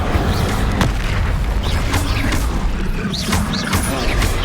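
Fire spells cast in Hogwarts Legacy during a duel, loud booming blasts and whooshing bursts crowding one another over a dense rumbling background.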